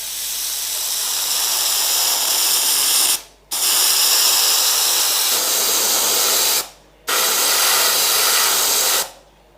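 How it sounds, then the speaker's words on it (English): Three long bursts of hissing spray from an airbrush applying thin layers of paint to metal parts of a 1/35 Tamiya Jagdtiger model, each lasting a few seconds, separated by short silent pauses. "And I spray 2 layers with the metal parts"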